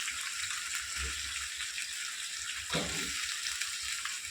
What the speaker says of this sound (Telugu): మన వంకాయలు ఫ్రై అయ్యేటప్పటికే మనకు ఉల్లిపాయలు, తాలింపు గింజలు కూడా వేగిపోతాయి బాగా